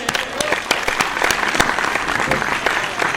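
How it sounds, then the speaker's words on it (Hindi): An audience at a Hindi patriotic speech gives sustained applause, dense overlapping claps with sharp louder hand strikes standing out in an even rhythm for the whole stretch. "आपकी तालियां कमजोर हैं।"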